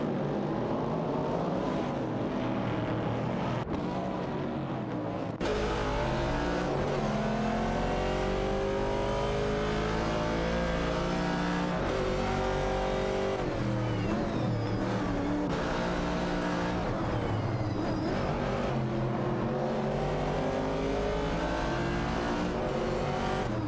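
Classic muscle race cars, a Chevrolet Camaro and an AMC Javelin, roar continuously in a racing video game, engines revving up through rising gear sweeps with a brief gear-shift break, loud and sustained throughout.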